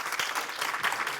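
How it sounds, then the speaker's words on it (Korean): An audience at a Seoul city ordinance debate forum applauding four panelists, a short burst of dense, even clapping from a roomful of people lasting just over a second. "토론을 해주신 우리 네 분께 다시 한번 커다란 여러분들 박수 한번 부탁드리겠습니다"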